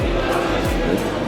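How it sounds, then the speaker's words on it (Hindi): Dense crowd murmur from a large gathering of visitors at Amber Fort in Jaipur, Rajasthan; brief, close and loud, with a few low thumps standing out over the steady hubbub. "भीड़ देखो भाई यहाँ पर कितनी ज़बरदस्त आई हुई है, लोग काफ़ी भरे पड़े हैं।"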